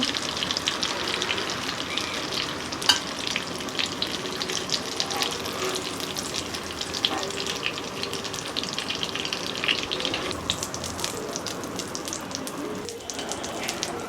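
Bengali prawn chops (chingri macher chop) fry in hot oil, giving a dense, continuous rain-like sizzle with scattered sharp pops, close and fairly loud, with no voices.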